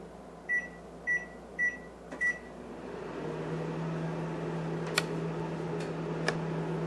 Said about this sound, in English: I'm going to cook this on defrost for about 5 minutes.